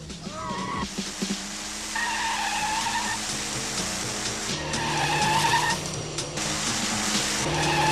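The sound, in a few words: car accelerating and skidding in a chase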